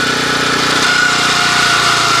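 A 1981 Honda F200 garden tiller's small engine runs steadily and loudly close by, a constant throbbing drone with no pauses.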